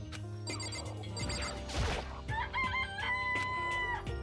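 Several chickens cluck and squawk close by in a Danganronpa video game scene, with scattered electronic tones and chimes over the clucking.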